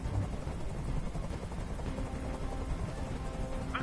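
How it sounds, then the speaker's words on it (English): A helicopter hovers in the video game Detroit, a steady, dense rotor drone with a low throb that holds at an even level throughout, with no speech. "I can't stand that noise anymore. Tell that helicopter to get out of here."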